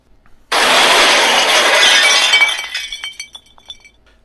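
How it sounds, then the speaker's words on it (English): Trash cans crash in a nearby alley: one sudden loud crash, followed by several seconds of clattering, ringing debris that slowly settles and fades, with no voices. "she could hear the crashing of trash cans coming from a nearby alley"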